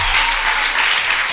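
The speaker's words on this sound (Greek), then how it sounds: "Ένα χειροκρότημα και για αυτούς." A hall audience at an award ceremony and closing event breaks into loud, dense applause that fills the whole moment at a steady level, without talk on top.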